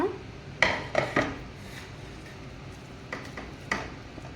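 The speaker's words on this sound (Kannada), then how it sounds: "ಈಗ ನಾವು ಬೇಯಿಸಿಟ್ಕೊಂಡಂತ ಅಲ್ಲ ಫ್ರೈ ಮಾಡಿ ಇಟ್ಕೊಂಡಂಥ ಕಾರ್ನ್ ಕಾಲಿಫ್ಲವರನ್ನು ಹಾಕ್ಕೊಳ್ಳೋಣ" Fried, cornflour-coated cauliflower pieces drop into thick sauce in a pan, making a few close clinks and knocks early on and then sparse light taps over a quiet background.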